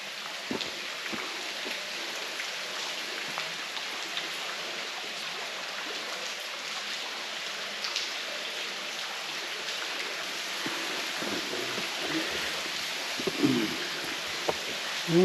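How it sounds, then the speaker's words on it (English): Steady rain patters and hisses all around a small lagoon in Madagascar, a continuous wash of drops with occasional closer splashes and rustles, no voices. "I'm getting rained on here a bit."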